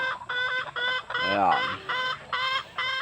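Chickens cluck repeatedly on a breeder's farm of purebred fowl, a steady run of close, bright calls with brief pauses, and someone speaks briefly over them midway.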